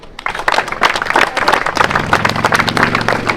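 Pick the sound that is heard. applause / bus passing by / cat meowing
applause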